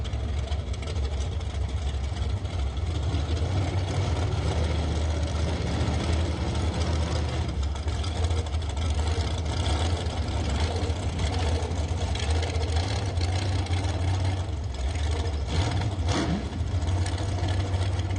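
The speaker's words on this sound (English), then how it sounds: "Dragster's coming to the starting line right now." Dragster engines idle and rumble at a drag racing starting line during a $20K Working Man event, a steady, loud, continuous low drone with no pauses.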